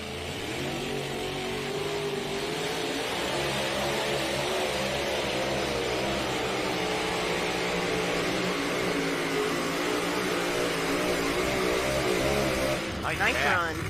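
Truck engine roaring at full throttle during a truck pulling run at the NTPA Grand National event, a loud sustained drone with shifting harmonics over a crowd, with people talking throughout.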